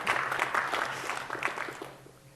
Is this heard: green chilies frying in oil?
no